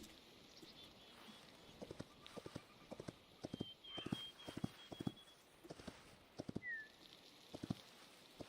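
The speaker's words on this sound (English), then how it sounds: "Oh, I guess I have a horse now." Horse hooves clip-clop at a steady walking pace in the video game Hytale, a rapid run of light, faint hoofbeats with a brief whinny-like call partway through.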